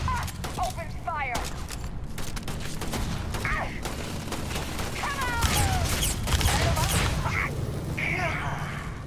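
Gunfire in a Starfield shootout against pirates: repeated bursts of automatic weapons fire and sharp shots over a constant battle din, with shouting voices throughout.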